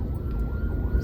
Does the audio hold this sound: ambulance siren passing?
yes